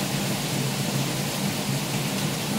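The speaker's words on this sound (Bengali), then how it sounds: "যা বৃষ্টি পড়ছে" Steady, dense rain pours down outside a home, a continuous close wash of hiss with no breaks and no voices.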